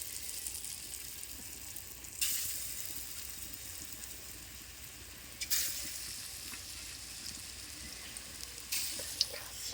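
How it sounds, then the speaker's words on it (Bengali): Chana dal lentil fritters frying in oil in a kadai wok, a steady low sizzle with bright crackling surges as more batter hits the oil, fairly quiet and without speech. "এবার কড়াইয়ে তেল দিয়ে দিয়েছি বড়াটা করে নেবো"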